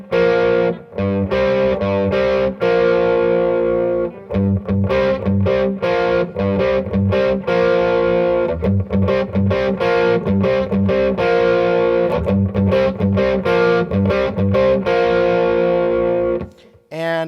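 A distorted electric guitar plays a riff, loud and close, with chugging repeated chords and short gaps between phrases, ending on a sustained ringing note.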